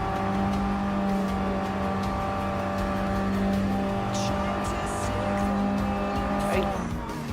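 A race car in Gran Turismo Sport holds a loud, steady engine drone under throttle, with tire squeal and brief skidding noises near the end.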